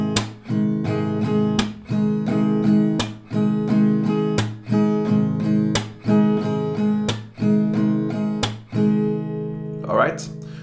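An acoustic guitar strums a repeating down, down, clap, down pattern of sharp strokes with a percussive hit in each cycle, steady and close, ending in a brief rustle.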